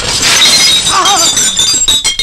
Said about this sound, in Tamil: வாசப்படி நினைச்சு கண்ணாடி நொறுக்கி தள்ளிட்டாங்களே